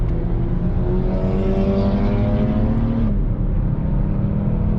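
A car accelerates hard on the Nürburgring circuit, its engine note rising steadily in pitch under full throttle from inside the cabin, then dropping briefly at a gear change before pulling again, loud and continuous.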